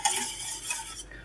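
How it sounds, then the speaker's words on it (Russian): A spoon scrapes and swirls steadily through plombir-style cream heating in a pot on the stove for a homemade cake, a soft, close, continuous stirring sound with light metallic contact. "Постоянно помешиваю"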